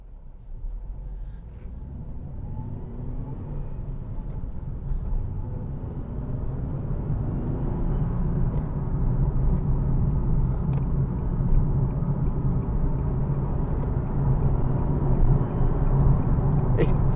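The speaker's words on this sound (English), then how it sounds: "it sounds like, almost like a supercharged engine. There's kind of a howl." A 2014 Nissan 370Z 3.7 V6 engine drones and builds steadily into a sustained, supercharger-like howl, loud and close, with no pauses, rising slightly in intensity through the stretch.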